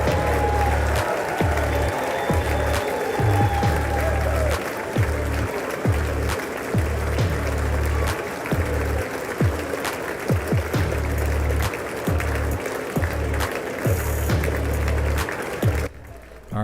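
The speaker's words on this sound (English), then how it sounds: "Wow, the longest clap." A large audience applauds at a State of the Union address in Washington, DC, a long, dense, steady wash of clapping that stays loud throughout and cuts off abruptly at the very end.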